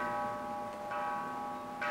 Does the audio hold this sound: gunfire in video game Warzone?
no